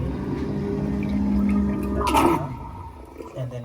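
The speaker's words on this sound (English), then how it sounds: "And then this is filling up and flushing at the same time." A boat's marine toilet gurgles and rushes as the bowl empties while water fills and flushes through at once, a close, continuous liquid roar with a brief louder surge near the middle.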